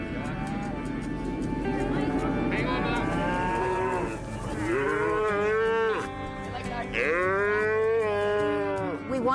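Cattle at a ranch branding low loudly and repeatedly, long drawn-out moos from several animals close by over a busy background.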